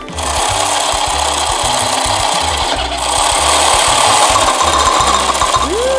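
Toy lip balm mixer churning candy pieces, a loud continuous motorized whir with steady rattling and clattering throughout, close up.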